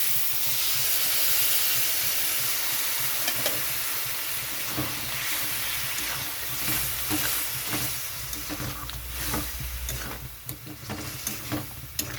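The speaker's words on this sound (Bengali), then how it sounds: "মশলাটা ঠিকঠাক কষানোর জন্য এখানে আমি জল দিয়ে দিচ্ছি" Water poured onto frying spice masala with potatoes for a vegetarian cauliflower curry sets off a loud, rushing hiss of sizzle and steam that gradually eases, with stirring clatter growing toward the end.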